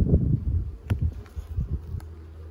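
Honeybees buzz around an opened hive in a low, continuous hum close to the microphone, with a few brief rustles and knocks from handling the frames.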